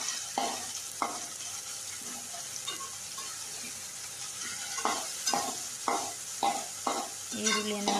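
Onions frying in a pan after tomatoes for chicken green gravy, a faint steady sizzle under a run of evenly spaced spoon scrapes and stirring strokes, no talking.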